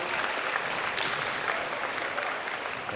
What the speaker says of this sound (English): He was waiting for a big applause from the crowd.